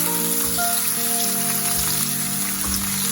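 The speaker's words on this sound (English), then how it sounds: "Saute the garlic for some time." Chopped garlic sautés in hot oil over a medium flame, giving a steady, close, even sizzle and crackle with no talking.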